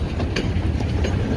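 Rumo ES44ACi diesel locomotives creeping slowly along a poorly maintained rail line, giving a steady low rumble with faint rhythmic wheel clatter, continuous and fairly close, no talking.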